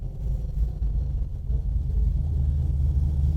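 A stroked Ford FE V8 in a 1967 Ford Mustang GT500 Super Snake recreation rumbles at idle, deep and steady, loud and close, with a throaty low-end burble and no talking.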